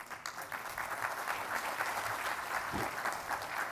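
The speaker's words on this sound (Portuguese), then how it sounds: "uma salva de palmas." Attendees at an international data protection symposium in a courthouse setting give sustained, even applause, a soft steady patter of many hands heard from some distance in a large hall.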